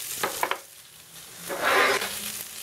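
Diced onion goes into hot basil-infused olive oil over high heat, with a few quick clinks of a utensil on the pan followed by a soft, rising sizzle, close and alone without speech.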